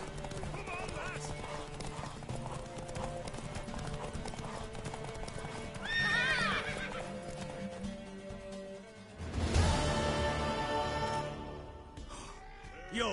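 Horse hooves clip-clop with a neigh in The Witcher 3, under game music and a voice talking; a louder burst of whinnying and galloping rises near the middle before trailing off.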